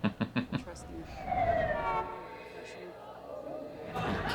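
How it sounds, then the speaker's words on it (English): A wailing siren rises and falls at a distance, fairly faint, following a few sharp knocks and mixed with low background noise and brief voices. "Can't help but hear the sirens"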